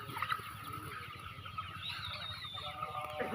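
Chickens in a large two-shed poultry farm give off a steady, dense clucking murmur throughout, with occasional sharper calls rising from the flock.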